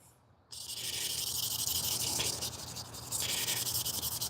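Hand sanding of a carbon fiber part, a steady dry abrasive rasp that starts abruptly after a brief quiet moment and continues close and loud with slight rhythmic strokes.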